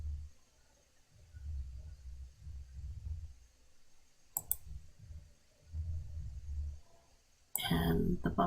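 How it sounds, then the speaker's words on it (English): Sharp mouse clicks in a quiet room while working in an Excel spreadsheet, a couple of crisp isolated clicks standing out over a low background hum and faint talk. "And then we are going to click Save Scenario."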